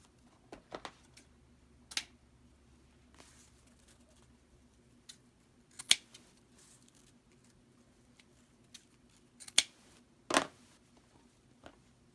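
Scissors cutting mesh ribbon stripes for a candy cane Christmas wreath, a handful of sharp, quiet snips and rustles spaced irregularly across a near-silent room.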